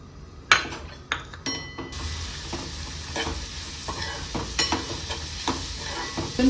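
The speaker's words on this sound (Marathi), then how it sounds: "त्याच्यामध्ये आपण कांदा टाकणार आहोत." Onion dropped into hot oil in a kadhai for Kolhapuri chicken masala, starting with a few clinks and knocks, then a continuous sizzle with occasional stirring scrapes, moderately close.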